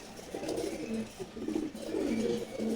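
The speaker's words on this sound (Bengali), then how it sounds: "দেখেন ওরা সবাই ডাকাডাকি করতেছে" Male pigeons cooing in a loft, several birds calling in overlapping low throaty coos that swell and fade repeatedly, close and fairly steady throughout.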